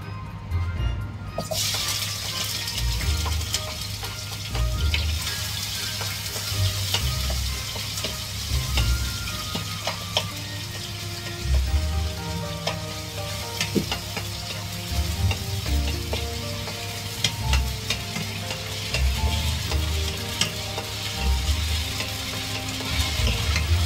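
Ginger sizzles in hot oil in a pan, a continuous bright frying hiss broken by repeated scrapes and clatters of stirring, with low bumps of the utensil against the pan.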